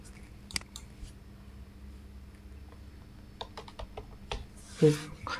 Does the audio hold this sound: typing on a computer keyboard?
yes